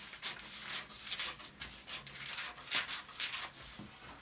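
Scissors cut through a paper pattern for a one-seam coat, making close, soft rhythmic snipping and rustling strokes in a steady run, with no one speaking.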